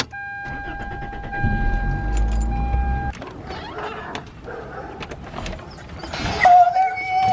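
Heard from inside, a car drives along the road with a steady low rumble and engine hum. Brief faint voices and clicks come through near the end.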